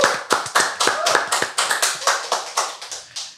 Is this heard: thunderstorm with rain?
no